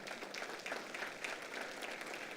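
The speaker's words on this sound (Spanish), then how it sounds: "Dale un aplauso." A church congregation claps for a woman named Claudia during a pastor's service, a soft, fairly even patter of hands from a modest crowd, heard at a distance.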